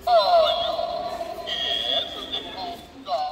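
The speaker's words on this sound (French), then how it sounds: "c'est une sonnette" An electronic doorbell on sale in an Action store chimes a few sustained electronic tones, then sounds again briefly near the end, close and fairly clear over soft shop background noise.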